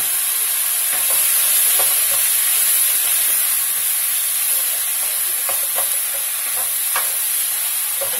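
A steady sizzle of egg frying in a hot pan, with intermittent scraping clicks as it is stirred, continuous and fairly loud with no talking.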